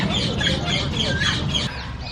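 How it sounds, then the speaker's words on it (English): A chicken clucks repeatedly at a Florida Keys roadside attraction, the calls loud and close over a steady bed of outdoor noise and crowd murmur. "Chicken just hanging out right here."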